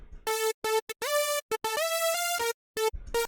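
Second oscillator of a raw hardstyle saw lead synth sounds on its own, pitched higher, rattling through a rhythmic riff of short bursts and longer held notes with small gaps, bright and saw-edged.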